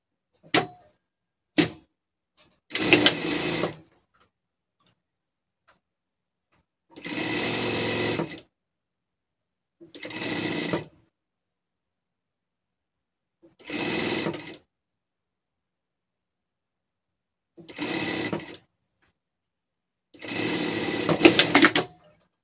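A sewing machine stitches a collar onto a pet gaucho costume in short separate bursts, two quick taps and then about six longer runs of whirring stitching with silent pauses between, close and clear.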